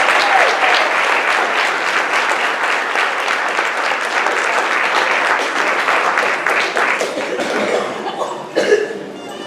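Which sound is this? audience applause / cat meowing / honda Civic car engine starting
audience applause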